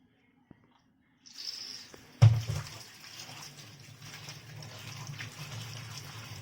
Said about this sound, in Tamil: நல்லா ஒரு 2-3 தடவை நல்லா வாஷ் பண்ணுங்கள்